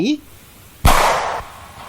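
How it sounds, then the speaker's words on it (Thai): A single sharp, loud gun blast cracks suddenly after a voice, followed by a brief ringing decay. "ปืนลูกซองเดี่ยวในมือของพานจันก็แผดลั่นสนันวันไหว"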